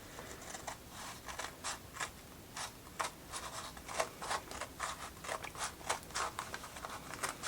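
Repeated crisp snips of large scissors cutting through material for a book nook build, a quick uneven rhythm of short cuts close by, with light rustling in between.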